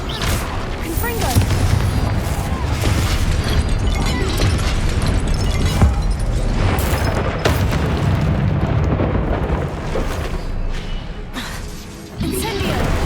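A Confringo blasting spell from Hogwarts Legacy, a loud fiery explosion with crashing debris and whooshing bursts that roll on continuously, while a voice calls out spells over the din.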